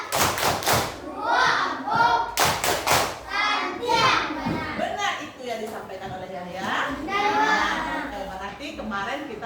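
Children in an Indonesian classroom chant "tepuk santiang" in unison while clapping sharp rhythmic beats, with bursts of claps punctuating the lively group voices close by.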